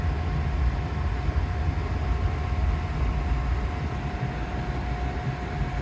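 Shoreline East commuter train rolling along the rails heading south in Connecticut, heard from aboard as a steady loud rumble and roar with a faint tonal whine, no voices.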